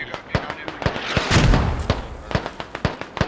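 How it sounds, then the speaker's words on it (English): Mortar shells landing nearby in the video game Squad: a rumbling explosion swells and fades in the middle, set among repeated sharp cracks of gunfire. Voices talk over it. "Mortars landing close again."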